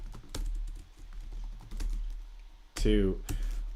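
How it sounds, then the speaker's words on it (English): Keys clatter on a computer keyboard in irregular bursts of typing, fairly close and moderately loud, with a brief voice-like sound near the end. "It's annoying typing in Jorginho, because every time, even though I've spelled it multiple times now, I have to think about how to spell it."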